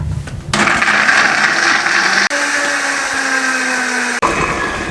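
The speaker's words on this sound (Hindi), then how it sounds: "इसको मैं ग्राइंड करने लगा हूँ" A kitchen mixer grinder whirs loudly and steadily as it grinds soaked almonds and cashews into a paste, its motor pitch shifting slightly, with two brief cut-offs where the motor stops and restarts.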